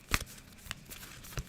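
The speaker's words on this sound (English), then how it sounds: "I'm shuffling, I promise." Quick riffling bursts of tarot cards being shuffled, a few sharp flutters spaced apart, close and fairly quiet with no talking.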